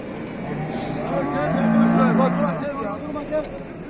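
Cattle lowing at a busy livestock market in Çorum, Turkey, a few drawn-out moos from cows with their calves rising over a steady crowd murmur and background bustle.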